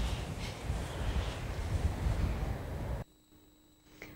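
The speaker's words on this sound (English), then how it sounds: "it is windy outside" Wind blowing outdoors on a cloudy day in the UK, a steady low rumble buffeting the microphone for three seconds before dropping away to near silence.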